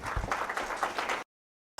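A hall audience at a community women's awards event claps together in a short, dense burst of applause lasting about a second, then breaks off abruptly into silence.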